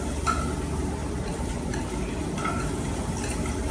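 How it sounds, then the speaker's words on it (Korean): Garlic and onion sautéing in melted butter in a pan: continuous gentle sizzle with soft stirring and scraping, close and steady, no talking. "버터를 녹여주신 다음에 준비한 재료를 넣어서 볶아주도록 하겠습니다"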